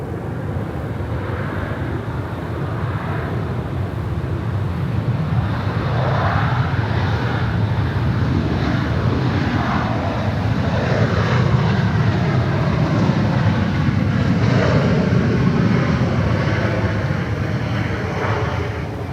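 An airliner takes off from runway 16 right at Sydney Airport, its jet engines roaring in a loud, sustained broadband rumble that stays constant and near throughout.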